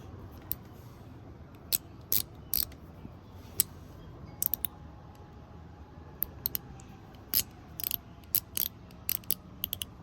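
A Zerk Pal fidget toy clicks up close, irregular bursts of sharp mechanical ticks and ratcheting snaps over a low background hum, fairly quiet overall.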